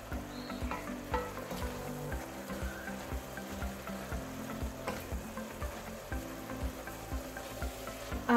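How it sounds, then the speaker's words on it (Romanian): Summer cabbage frying in a pan on the stovetop, a steady sizzle under repeated scraping and clinking strokes of a utensil stirring, close and moderately loud, with no speech. "Amestecăm bine, bine."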